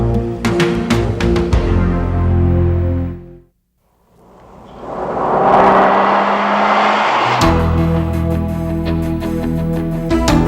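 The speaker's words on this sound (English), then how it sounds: "This is the 1997 Pontiac Grand Prix, a vehicle with a split personality." A 1997 Pontiac Grand Prix drives by, its engine and tire roar swelling loud and close for a few seconds between passages of music, then fading as music returns.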